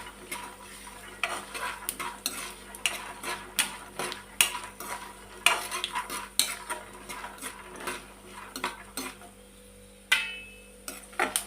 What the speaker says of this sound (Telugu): ధనియాలు ఇట్లా వేసుకున్నాక ఇవి మొత్తం బాగా ఫ్రై చేసుకోవాలి